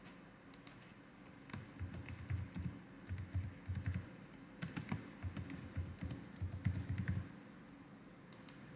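A password typed on a computer keyboard, a quick uneven patter of close key clicks in short bursts over a faint background hum, without talking.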